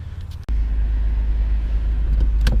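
A Nissan R32 GTR fitted with new coilover suspension pulls away, its engine rising abruptly into a loud, sustained low rumble after a brief lull, with small mechanical clunks near the end.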